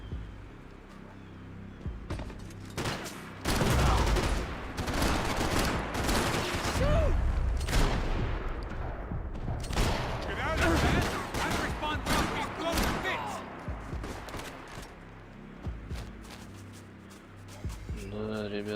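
Rapid, sustained gunfire in Max Payne 3 crackles continuously, with bursts of heavy shots and thuds layered over a busy, chaotic mix; no talking.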